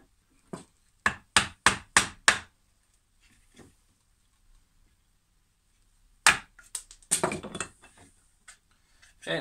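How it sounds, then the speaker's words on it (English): Wooden mallet strikes on a wood chisel, cutting down to a marked line on pallet wood: a quick run of five sharp knocks, a pause with faint taps, then a louder cluster of blows and scraping. "chisel and wooden mallet. And we're just going to sort of chisel down just before our line."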